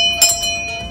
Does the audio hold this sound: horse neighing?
no